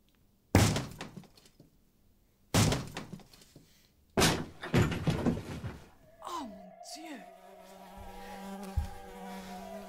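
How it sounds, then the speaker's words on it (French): Police break down an apartment door in a French short film, three heavy thuds landing two seconds apart, then a buzzing fly and scuffling under raised voices. "si vous n'ouvrez pas, nous allons devoir enfoncer la porte"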